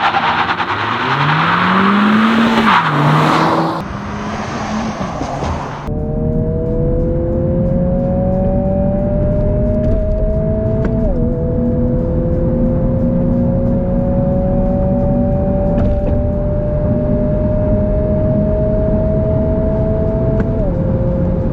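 A 2022 Honda Civic Si launches hard from 2,500 RPM and its engine climbs through the gears in long rising pulls, loud and close against steady road and wind roar.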